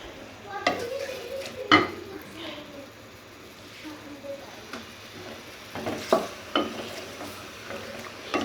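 Chicken is stir-fried in mustard oil in a karahi, with a spoon clinking and scraping against the pan in scattered knocks over a low sizzle while someone talks.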